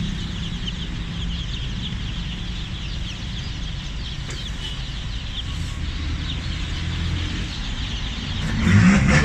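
Dozens of young laying-breed chicks peep continuously in a dense, high-pitched chorus, steady and close throughout, with a brief louder rustle at the very end; no one speaks.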